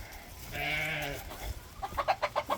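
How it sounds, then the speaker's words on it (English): Goats bleat out on a homestead on a cold evening, one drawn-out wavering call followed by a run of short rhythmic bleats, with chickens nearby. "Yeah, the goats, they good."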